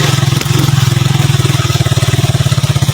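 Motorcycle engine running on a slippery, muddy road in the rain, a steady rhythmic low-pitched putter that stays close and loud throughout with no talk over it.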